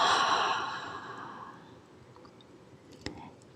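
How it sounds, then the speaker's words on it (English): A long, slow exhale during a seated gentle yoga practice, loud and breathy at first and fading away over about two seconds, followed by near silence with a faint click. "Inhale. And exhale."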